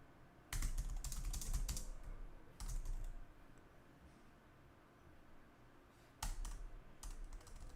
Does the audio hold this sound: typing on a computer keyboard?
yes